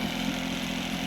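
An outboard boat motor runs steadily with a low, even drone, struggling to hold a low idle, close and continuous with no talk.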